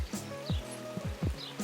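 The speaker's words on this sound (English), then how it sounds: "I'm going to go inside because it's raining. Pretty hard actually." Rain falls hard at a small harbor beside a deserted seaside village, with scattered drops tapping nearby surfaces over a soft steady wash and occasional louder splats.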